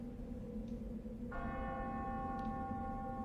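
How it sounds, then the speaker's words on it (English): A church-like bell rings in a song, striking once and then sustaining a bright, layered ringing tone over a low musical backdrop. "This one has a bell, possibly in a jail."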